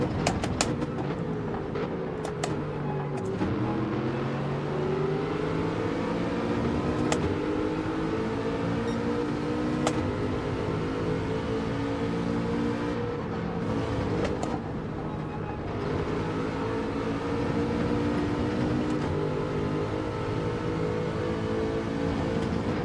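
In Gran Turismo 7, a race car engine drones steadily at high revs while slipstreaming behind another car. Its pitch rises and falls slowly, with brief dips at gear shifts, and it plays alone at constant loudness.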